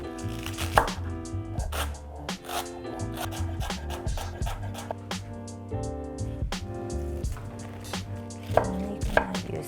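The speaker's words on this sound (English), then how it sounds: "So I'm gonna fine chop my zucchini" A knife finely chopping zucchini on a board for Korean rose dumplings, giving quick repeated taps under steady background music.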